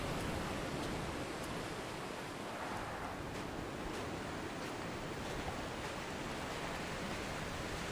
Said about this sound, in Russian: Ветер тут не слабый.